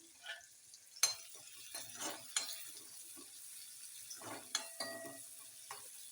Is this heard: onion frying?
yes